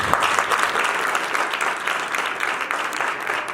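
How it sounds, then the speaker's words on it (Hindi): Church congregation breaks into loud, dense applause, a continuous wash of clapping that holds strong from start to finish without a break. "जोरदार तालियां बजा।"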